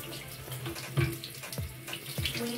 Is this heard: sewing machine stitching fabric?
no